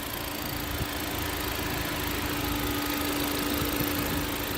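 A Ford Focus RS all-wheel-drive hatchback idles with its cold air intake drawing in air, a steady, close engine hum with a faint low tone and broad rushing noise held evenly throughout.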